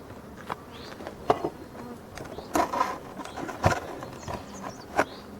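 Honeybees buzz at a small hive during the waggle dance, with scattered close buzzing bursts and wingbeat whirs over a low background hum.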